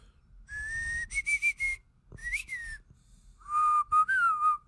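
A person whistles a series of short bright notes, then a sliding tone and a longer wavering phrase, close and clear with brief gaps.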